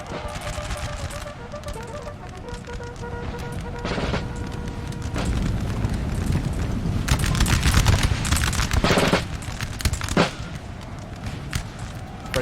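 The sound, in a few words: musket volley fire in video game Napoleon Total War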